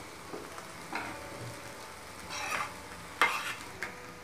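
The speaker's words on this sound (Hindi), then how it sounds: "अच्छे से मिक्स करेंगे सभी मसाले और आलू को" Mashed boiled potatoes being mixed with spices in a pan, giving soft scraping and stirring strokes with a few sharper scrapes, close and fairly quiet, with no talking.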